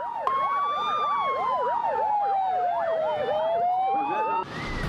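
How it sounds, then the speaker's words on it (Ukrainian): Fire engines race onto an airport runway during an emergency drill, several wailing and yelping sirens overlapping loudly and continuously, close by, with a burst of noise at the end. "на злітну смугу виїхали 11 пожежних машин"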